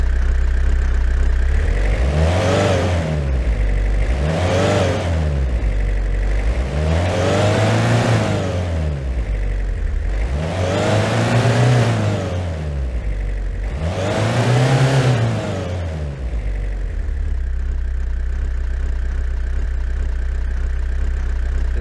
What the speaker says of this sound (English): let's see how we managed to create engine sound, how actually it sounds when you are regulating it in the game